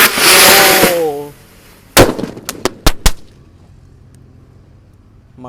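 Firecrackers set off underground burst in a quick cluster of sharp, loud cracks and thumps after a short stretch of voices, then fade into low rumbling quiet.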